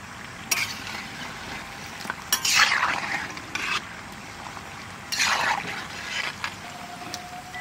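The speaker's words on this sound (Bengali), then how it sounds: "ধোকা তেলের উপরে চলে এসছে ভেসে যাচ্ছে হালকা হয়ে গেছে তার মানে এটা ভাজা হয়ে গেছে" Chana dhoka pieces frying in hot white oil, a steady low crackle and bubble with bursts of louder sizzling and stirring at intervals, close and without talk.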